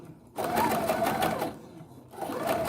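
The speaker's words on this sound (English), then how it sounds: "but I have to sew them together" A sewing machine stitches homemade fabric bias strips together for a flounced dress, whirring loudly and close in two bursts with a brief pause between them.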